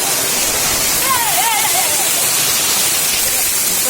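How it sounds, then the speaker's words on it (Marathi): Waterfall roaring as a loud, continuous broadband rush heard up close, a faint voice briefly audible beneath the steady wash of falling water. "धबधबा एक नंबर भारी आहे"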